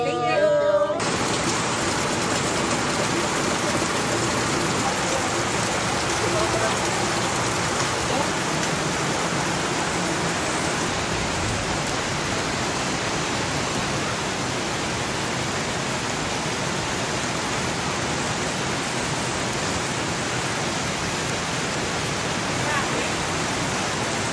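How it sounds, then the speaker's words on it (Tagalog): Steady rain falls on a garden planted with flowering trees, a dense, even hiss that fills the whole stretch without pause after a brief opening sound. "buti na lang umulan"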